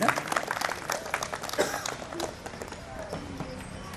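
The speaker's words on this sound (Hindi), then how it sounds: "जोरदार तालियों से वंदन" Audience applause at a Holi Milan felicitation ceremony, a dense burst of many hands clapping at close range that gradually thins out over a few seconds.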